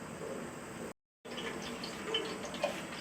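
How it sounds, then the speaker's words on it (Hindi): Cooking oil is poured into a large cooking pot, giving a soft continuous trickling, gushing liquid sound that briefly cuts out, then resumes with faint clinks. "इसमें तकरीबन हम 250 ग्राम जो कुकिंग ऑयल है वो डालेंगे"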